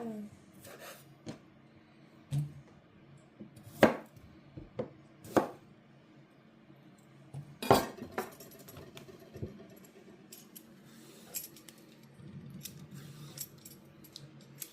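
A knife cuts a small vegetable for an Italian minestrone with meatballs, giving a series of sharp, irregular taps and slices on a board, close and fairly quiet, with soft rustling and handling sounds between the cuts.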